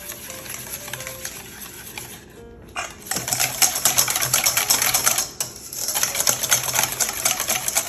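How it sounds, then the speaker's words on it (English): Aioli being whisked with lemon juice in a bowl, a fast continuous rattling clatter of the whisk up close, pausing briefly once before resuming, with no voices. "go ahead and whisk this together"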